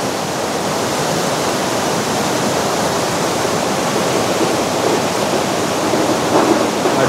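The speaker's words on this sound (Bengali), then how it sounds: "আর জলের কি আওয়াজ" The Chel river rushes loudly and steadily close by, a dense, constant roar of flowing water with no breaks and no talking.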